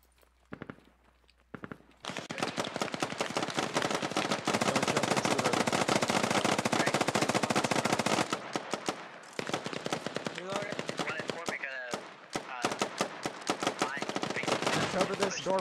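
Sustained automatic gunfire fills a Squad battle, with dense rapid bursts for several seconds, then scattered shots and cracks, while voices talk over the fighting.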